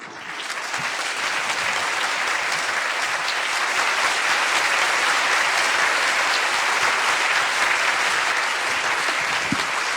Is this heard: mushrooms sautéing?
no